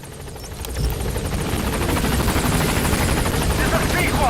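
A helicopter in the video game Metal Gear Solid V builds from quiet to a loud, steady rotor thrum with rapid blade chop as it arrives close by.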